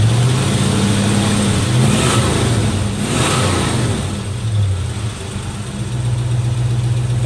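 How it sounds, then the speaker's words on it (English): A 1966 Ford Mustang A-Code V8 with a four-speed and stock exhaust revs loudly and close by, with two quick blips of the throttle before it settles back to a steady, rumbling idle. "It's got a nice stock exhaust sound to it."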